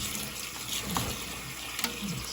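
Water runs from a kitchen tap into a filling sink in a steady, close gush with small splashy fluctuations, no voices.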